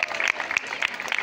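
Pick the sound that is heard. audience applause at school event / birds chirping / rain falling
audience applause at school event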